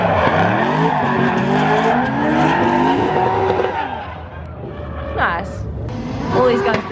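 Toyota 86 drift car finishing a run at a D1 Open Class drift competition: loud engine revving and screeching tires that fade toward the end, with an excited voice talking over the noise.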